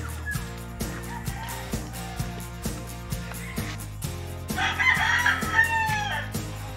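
Hens and broodcock roosters on a Philippine gamefarm cluck and crow. A rooster's crow rises clearly near the end over steady, regularly repeating background pulses.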